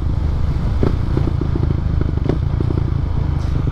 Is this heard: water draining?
no